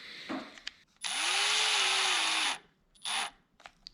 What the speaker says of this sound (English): Chuck a drill on this thing and see if when we spin it, the speedometer works.